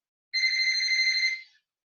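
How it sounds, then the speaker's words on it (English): A phone rings with an incoming call: a single electronic ringtone burst, clear and steady for about a second before cutting off, with silence around it. "we have a phone call coming in"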